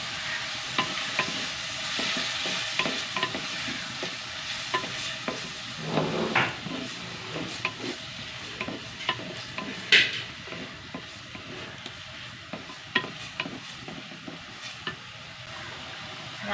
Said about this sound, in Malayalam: നമ്മുടെ ചെറിയുള്ളി നന്നായി വഴണ്ട് വന്നിട്ടാണ്